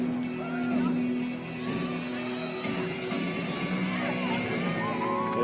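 Crowd murmur and scattered shouts from spectators at a USA vs Canada under-20 rugby match, a steady moderately loud hum of voices with occasional calls, under talk.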